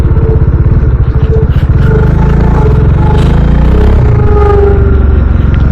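Bajaj Dominar 400 motorcycle cruising on a highway, its engine a loud, close, continuous throb with a rapid pulsing note that smooths into a steadier drone. Wind and road noise sit on top throughout, and no one speaks.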